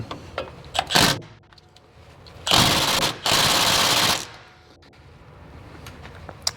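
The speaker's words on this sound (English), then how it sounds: "we're just going to use an impact and pull them out" A pneumatic impact wrench breaks loose 12 mm 12-point driveshaft bolts on a 2024 Ford F150 4x4 5.0L, firing one short burst and then two longer close, loud rattling runs with quiet pauses between.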